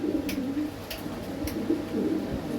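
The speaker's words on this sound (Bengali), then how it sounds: "আমার লাইনের প্রিয় একটা কবুতর" Racing homer pigeons coo in low, soft, repeated murmurs close by, a steady rolling burble over a faint background hum, with a few brief higher chirps mixed in.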